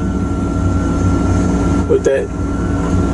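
A Tigercat 630E skidder fitted with a final Tier 4 engine keeps up a steady low drone close by, while someone speaks briefly over the running machine.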